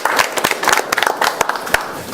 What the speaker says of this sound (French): un petit tonnerre d'applaudissements